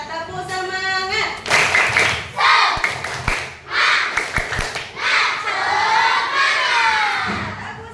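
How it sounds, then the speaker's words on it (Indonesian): A group of people at a school coaching session claps a rhythmic spirit clap, with bursts of hand claps and cheering voices mixed loudly through the whole stretch. "kita tepuk semangat"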